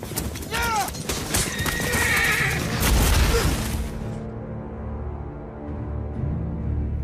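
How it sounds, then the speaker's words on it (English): Some forty horses charge at full speed in an epic Game of Thrones cavalry battle scene, with loud whinnies over a dense thunder of galloping hooves and a voice partly over it, fading to a low rumble. "That's 40 horses charging full speed at Kit Harington."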